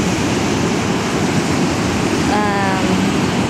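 Steady surf breaking on the shore at Piper Beach, a constant close wash of wave noise with wind, and a brief voice partway through.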